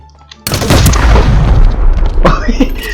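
A sudden loud gunshot goes off by accident in the Ring of Elysium shooter game, a sharp boom after a quiet start that rolls into a long, echoing rumble with a few fainter clatters after it.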